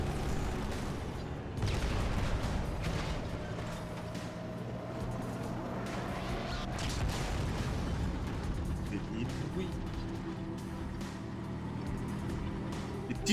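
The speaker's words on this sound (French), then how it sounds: "Des petits bruits d'explosion là." Explosions and gunfire from the Halo 2 video game rumble steadily for over ten seconds, faint and continuous with scattered blasts and bursts of automatic fire.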